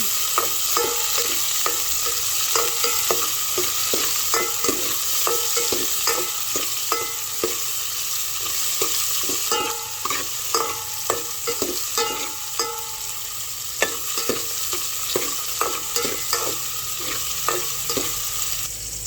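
Tomatoes sizzle in hot oil as they are sautéed for shrimp ginisang monggo, with close, rhythmic scraping and stirring strokes over a steady frying hiss and no talking.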